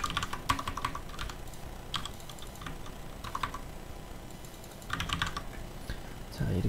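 Soft, uneven clusters of keystrokes on a computer keyboard as text is entered into an HTML table, fairly quiet against a low room hiss, with a short pause between bursts.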